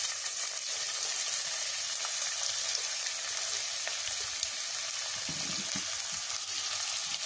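Chopped onions sizzle steadily in hot oil for a Bengali tangra fish curry, a dense even hiss held close throughout, with faint stirring scrapes near the end and no talk.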